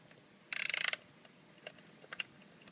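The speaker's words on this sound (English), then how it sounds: "When you tighten this back down with your socket wrench" A socket wrench ratchets while tightening a spark plug on a 2008 Jeep Patriot. It gives a quick, close burst of about ten crisp clicks, followed by a few faint, scattered clicks.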